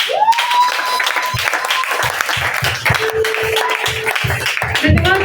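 A church congregation bursts into sustained applause and cheering to acclaim the Lord, loud and continuous with rhythmic clapping and voices rising over it, the crowd noise filling the space.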